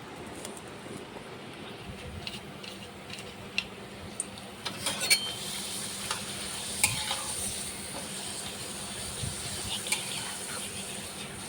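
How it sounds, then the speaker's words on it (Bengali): Papads frying one at a time in hot oil make a faint, steady sizzle, dotted with small pops and sharp clicks throughout, with no talking. "মেখে নিলাম, এখন পাঁপড়গুলি ভেজে নেব আগে"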